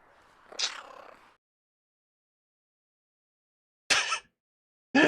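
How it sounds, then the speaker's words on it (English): Odd cat-like sounds in a comic stream: a brief meow-ish cry, then silence and two abrupt loud bursts, close and alone with no talking. "The weird cat sounds when that happens as well."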